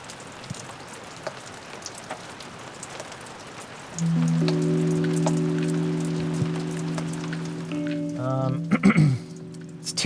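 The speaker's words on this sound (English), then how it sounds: "It looks like the rain's gonna die down a little bit at 3 o'clock" Rain patters steadily on a surface at a campsite on the Potawatomi Trail, a dense close drizzle throughout, with a sustained droning tone entering midway and a brief clattering near the end.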